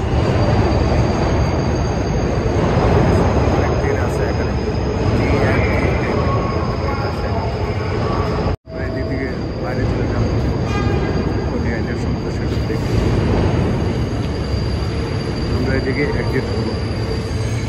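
A subway train at Coney Island Stillwell Avenue station in Brooklyn, the terminal for D and Q trains, rumbles loudly and continuously nearby with steady wheel and track noise, briefly cutting out midway.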